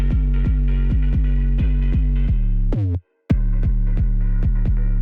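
Electronic music track with a throbbing synth bass line, deep repeated plucky notes pulsing in a steady rhythm, cut by a brief silent gap before the pattern resumes, loud and alone.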